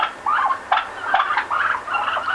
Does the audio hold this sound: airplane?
no